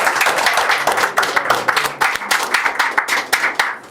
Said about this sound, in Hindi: एक बार तालियां बजा